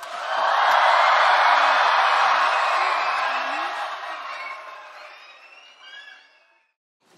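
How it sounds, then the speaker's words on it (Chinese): A children's choir concert audience in China lets out a loud, sustained cheer that holds strong for several seconds, then thins and fades away. "可以再加一点欢呼声吗？"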